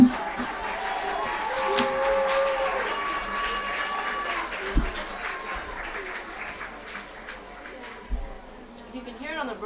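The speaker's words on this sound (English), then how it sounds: "we have a huge crowd here" A large crowd at a high school ultimate frisbee state championship final applauds and cheers, a continuous wash of clapping and crowd noise that stays loud and steady, with a few sharper bursts and a voice faintly underneath.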